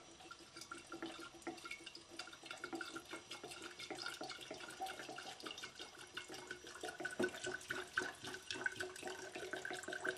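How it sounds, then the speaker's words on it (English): Denatured alcohol pours steadily from a container into a one-quart glass jar for mixing shellac, a continuous close trickling and splashing liquid stream with no voice over it. "So get all the denatured alcohol in here."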